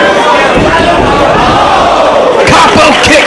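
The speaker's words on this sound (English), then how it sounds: "You can hear the very vocal New York crowd supporting their chosen wrestler." A loud New York crowd at a 2005 Ring of Honor pro wrestling match chants and cheers in a dense, continuous roar, with claps and shouts rising toward the end.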